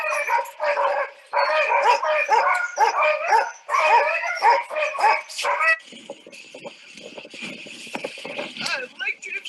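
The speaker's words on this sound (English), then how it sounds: "So he's just getting the dogs rigged up before we go." Sled dogs bark, yip and whine excitedly while being rigged up in Whistler, British Columbia, a loud rapid chorus that gives way to more scattered whimpering and distant yelps.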